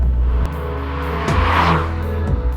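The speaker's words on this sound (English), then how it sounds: "they just see me driving a Toyota with some body kit on it" A Toyota Aygo Crazy with a body kit drives hard, its engine loud and close, revving up and dropping between gear changes in a short burst of acceleration, with no talk.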